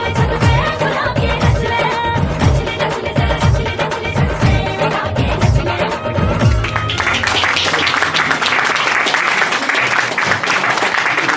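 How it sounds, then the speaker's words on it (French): A live audience claps and cheers steadily after a dance performance at a Miss and Mister pageant, with loud sustained applause over fading music, the rhythm thinning into dense even clapping in the second half. "Alors on applaudit encore une fois, mesdames et messieurs, magnifique chorégraphie"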